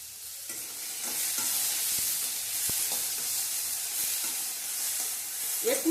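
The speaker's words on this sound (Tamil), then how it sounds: "இந்த வெங்காயம் பச்சை மிளகாயும் நல்லா வதங்கணும்." Onions and green chillies sauté in a pan, a steady close sizzle broken by occasional scraping stirs of a utensil, with no voices.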